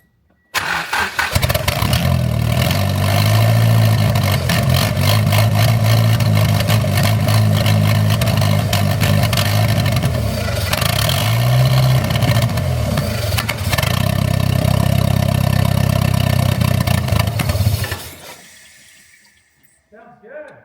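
Mitsubishi Conquest engine kicks into life and runs loud and steady for about seventeen seconds with a brief dip in revs midway, then shuts off and falls to near silence.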